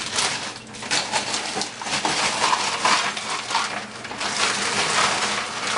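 Ice cubes, about a cup, tumble onto a green smoothie in an Oster Versa blender, making loud clattering, crunching knocks in quick irregular bursts, close up with no voices.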